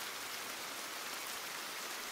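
Steady rain falling, a dense even hiss of drops that is moderately loud and continuous, with no voices.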